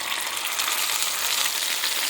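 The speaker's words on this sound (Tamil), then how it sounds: "கறிவேப்பிலை போட்டு தாளிச்சதை இதில் போடுறேன்." Loud, steady hiss and sizzle of curry leaves tempering in hot oil, with tamarind solution poured in while making garlic pickle, constant crackle with no talking.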